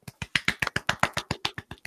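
About a dozen soft, light claps in a steady, quick rhythm, close by and fairly quiet, with no talking.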